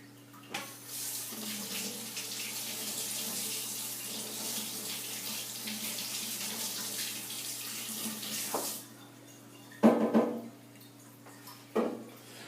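Running tap water rinses lye solution off a dropped soap-making item at a sink, a steady broad splashing stream for about eight seconds, then brief bursts of water and clatter as the item is handled near the mic.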